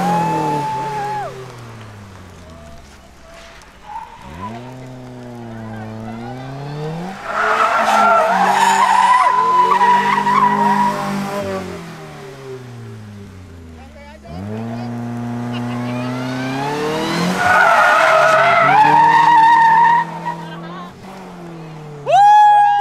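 Car tires skid and squeal through repeated J-turns, with two long surges of loud, wavering screeching separated by quieter engine stretches, close and dominant throughout.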